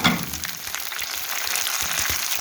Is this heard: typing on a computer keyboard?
no